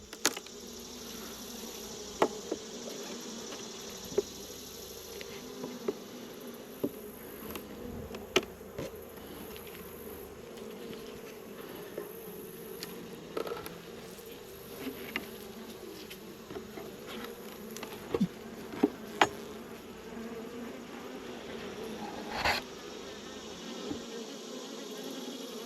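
Honeybees buzz continuously during a beehive inspection, a dense steady drone close by with occasional sharp clicks and knocks of frames being handled, and no talking.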